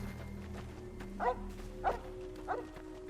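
A dog in the Fallout video game gives three spaced barks over a steady low ambient hum, moderately near and clear with no talking.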